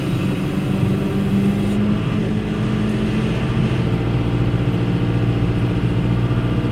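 Tractor engine running steadily while pushing a Virnig V60 steel-edge snow pusher with back drag, a loud continuous mid-pitched drone that holds nearly constant throughout with no voices.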